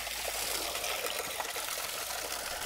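Water gushes steadily from a well at Damloti in Malir, Karachi, a constant hissing, splashing flow that sounds fairly close and unbroken.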